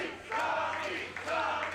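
Wrestling crowd at an indoor show cheering and shouting in two swelling bursts, mixed with a commentator's voice.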